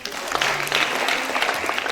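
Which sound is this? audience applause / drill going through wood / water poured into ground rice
audience applause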